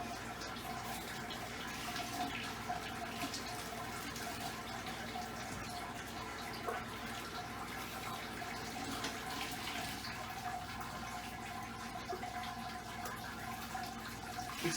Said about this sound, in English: It's important to spread the water around on top so that you don't form a channel.